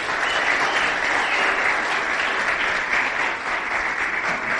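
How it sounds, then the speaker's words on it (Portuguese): Steady, dense applause from a church meeting audience fills the space, many hands clapping continuously at a fairly loud level with no voices on top. "Então, uma salva de palmas para Estevão e Juliana."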